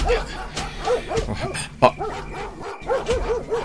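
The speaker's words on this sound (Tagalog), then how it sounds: "Taol nagiti aso manipog iti adayo apas ti kabakiran." Several dogs bark and yip in the distance near a forest, with repeated barks that come in bursts and a brief whimper in between, fairly faint against a quiet outdoor background.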